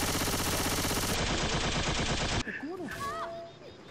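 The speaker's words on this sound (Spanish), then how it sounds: "¿Quién me dispara?" Dense rapid gunfire in Left 4 Dead 2 rattles loudly in continuous bursts for a couple of seconds, then cuts off abruptly to quieter game sounds with a brief voice.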